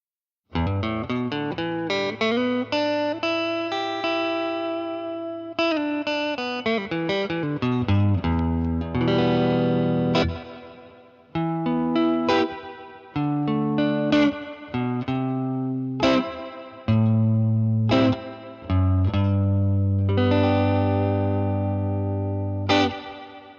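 Electric guitar played through a Purdy reverb pedal into a tweed amp, a run of picked chords and single notes ringing out with a lush reverb tail, steady and close with brief pauses between phrases.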